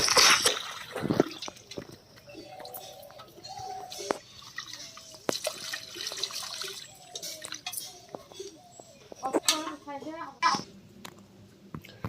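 Water poured onto cow dung being crumbled and mixed into a paste for plastering a courtyard floor: close, wet dripping and squishing splashes in uneven bursts, with faint voices in the background.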